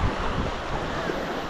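Sea waves washing along a shore, a steady rushing wash mixed with gusty wind buffeting the microphone, fairly loud and continuous, with no voices.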